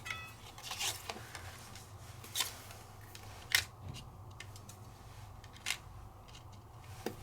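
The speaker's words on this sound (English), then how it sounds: "Now the last one I have to cut is the glitter sheet." A glitter sheet being cut, with a handful of sharp, brief snips spread irregularly over a steady low hum, close and fairly quiet.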